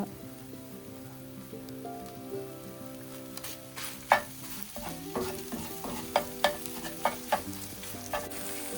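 Eggs with grated cheese cook in a pan, a soft steady sizzle that grows into several distinct spatula taps and scrapes toward the end.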